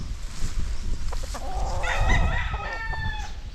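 A rooster crows nearby while chickens cluck around it, with a steady rustle of outdoor background noise.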